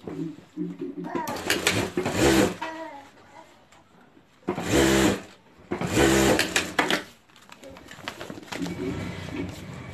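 A sewing machine stitches fabric lining onto a strap for a homemade sling bag, running in several bursts of rapid mechanical whirring with pauses between, close and fairly loud.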